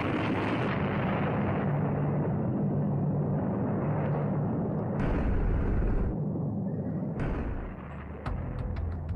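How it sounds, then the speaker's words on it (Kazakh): A nuclear test explosion sends out a deep, sustained roaring rumble that lasts for several seconds, changes character partway through and then thins out toward the end, with no voices. "Взрыв."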